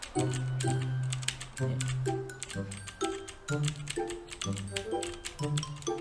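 Rapid clicking of computer keyboard keys during Brawlhalla gameplay, irregular bursts of taps over quiet game music tones, close and fairly soft.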